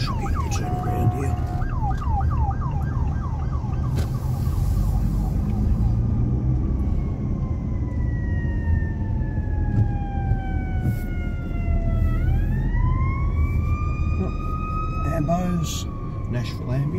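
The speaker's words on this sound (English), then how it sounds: "Nashville Ambulance." An ambulance siren wails steadily with rising and falling tones, then shifts pitch as it passes, over loud traffic and city noise with some talking, in downtown Nashville, Tennessee.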